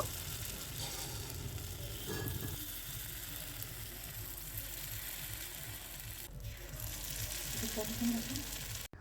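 Rice batter for chitoi pitha sizzles steadily in an oiled nonstick mould, a continuous close frying hiss with faint clicking from the pan.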